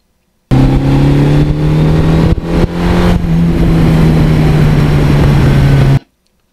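A Suzuki GS1100E motorcycle on a test ride after a custom wheel install holds a loud, steady engine drone with wind rush, a brief dip near the middle, and an abrupt start and stop.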